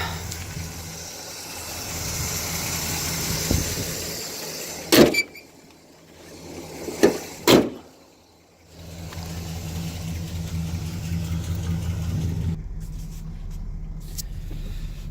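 A 1974 Pontiac Grand Am sedan with a 400 engine runs steadily, loud through open windows, rising and falling with throttle. A couple of sharp knocks break in midway before the engine drone resumes.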